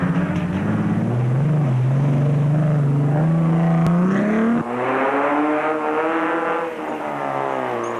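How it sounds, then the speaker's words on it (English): A Toyota Hilux rally race car in the Carnival City 400 roars past close by, its engine pitch climbing under acceleration and then dropping sharply as it goes by, followed by another engine drone that fades slightly. "Zane Pierce in his Toyota Hilux was going well in Class E, but Marsh and Whitehouse in the Nashua car wanted to pass"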